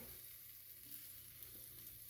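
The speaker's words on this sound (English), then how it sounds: "take these wings, you hear that sizzle" Faint, steady sizzling of chicken wings in an air fryer, a soft continuous crackle with no talking.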